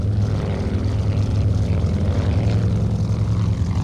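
A steady, loud drone of the propeller engine of an old Corsair in a flight simulator game, a continuous low rumble with no change in pitch and no talking.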